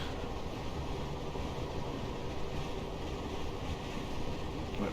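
Class 455 electric train coasting between Guildford and London Waterloo in Train Simulator Classic, a steady rumbling roll of wheels on track with even broadband noise, continuous and unchanging, no voices.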